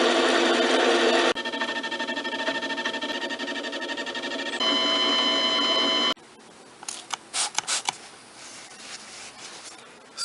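A metal lathe runs with a close, steady, tonal whine that shifts pitch slightly partway through, then cuts off to quieter scattered clatter and handling sounds.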